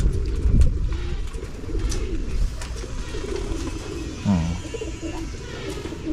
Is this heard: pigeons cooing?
yes